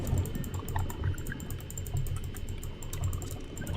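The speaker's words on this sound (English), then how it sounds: "you can probably hear me clicking" Rapid, close computer keyboard typing and mouse clicking during a Subnautica game session, a steady clatter of keystrokes over a quiet underwater game ambience, with no speech.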